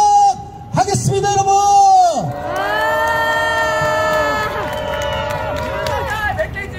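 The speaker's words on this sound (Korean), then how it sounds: "여러분들의 뜨거운 박수와 함성으로" A crowd at a candlelight rally in Busan, held over the Itaewon disaster, roars with loud sustained cheering and shouting that swells after a brief opening and carries on strongly to the end.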